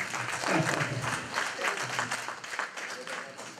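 A church congregation applauding at a prayer teaching, a dense and fairly steady wash of clapping with voices mixed in underneath.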